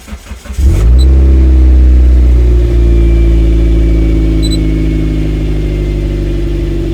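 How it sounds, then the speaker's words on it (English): A turbocharged 1ZZ engine in a Toyota MR2 Roadster cranks briefly, catches and settles into a loud, steady high idle, close up with no talking. "So let me just start up the car."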